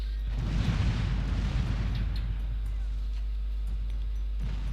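A musket firing-line volley in the video game Shogun 2 Total War: a loud, rumbling burst of massed gunfire that swells early and trails into sustained battle noise, with talk over it.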